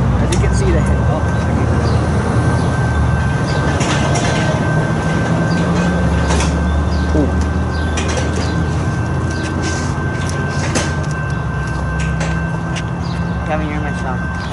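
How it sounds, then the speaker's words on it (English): An Amtrak passenger train arriving at Deerfield Beach station rumbles steadily nearby with a sustained horn-like tone, clattering wheels and mechanical noise throughout, while people talk over it. "Here comes Amtrak 92 that's coming to Deerfield Beach."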